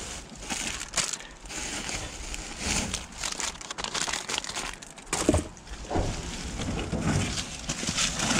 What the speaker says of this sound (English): let's move this plastic bag from here